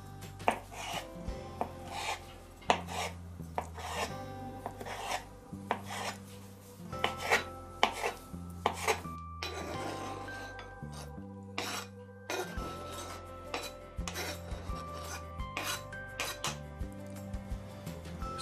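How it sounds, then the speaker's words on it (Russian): A knife chops boiled eggs steadily on a cutting board, with quick irregular taps over background music. "4 вареных яйца нарезаю не крупно"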